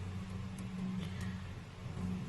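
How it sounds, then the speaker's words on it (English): An airplane flying overhead gives a steady, low, distant engine rumble that drones on throughout without rising or fading much, with no talking. "I think that was a plane actually, not a helicopter."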